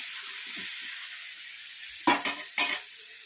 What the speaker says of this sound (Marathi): थोडासा कांदा टाकूया. ते छान असं परतून घेऊया.